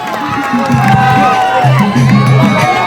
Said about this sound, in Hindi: तालियां बजा करके इस्तेकबाल करें शान हिंद निहाल अहमद साहिब।